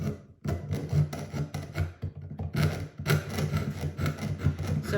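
A saw blade cutting through a blanking die, giving repeated rasping strokes in a steady back-and-forth rhythm with short pauses, close and fairly quiet.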